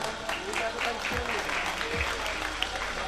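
Audience clapping at a college cultural fest award ceremony, a steady dense wash of applause filling the hall, with voices talking over it.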